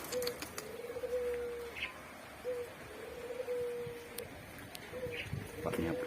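A black-naped oriole calls outdoors in a rural spot by coconut trees, giving several clear, mellow fluting whistles at a moderate distance over steady ambient noise.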